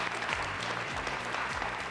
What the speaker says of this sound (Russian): Аплодисменты нашей студии.